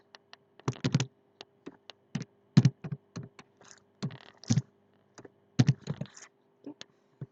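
Bursts of typing on a computer keyboard, close and fairly quiet, with clusters of quick key clicks separated by short pauses.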